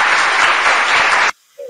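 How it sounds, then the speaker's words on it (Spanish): Loud applause from an audience at a church gathering welcoming a guest, dense steady clapping that cuts off abruptly, followed by a brief quiet tone. "Un aplauso para ella."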